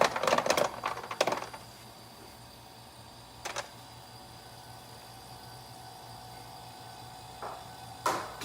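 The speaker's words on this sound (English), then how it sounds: "you can hear the ice cubes drop" Ice cubes tumbling out of an Ecozy portable countertop ice maker, heard as a clattering burst of clinks at the start, then a single short clatter and a final rattle near the end, over a steady low machine hum.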